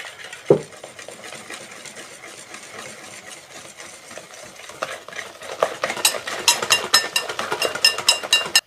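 Madeleine batter stirred after flour and baking powder go in, one knock on the bowl early, then a run of quick, clicking whisk or spoon strokes against the bowl building toward the end.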